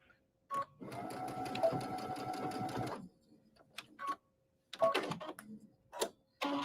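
A sewing machine stitches ribbon in a long, even whirring run of about two seconds, followed by several short bursts of stitching separated by quiet pauses, heard up close.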